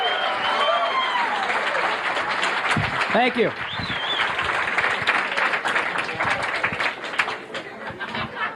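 A comedy club audience applauds steadily as a comedian is welcomed to the stage. The clapping is dense and sustained, with a brief spoken thanks and some crowd chatter over it.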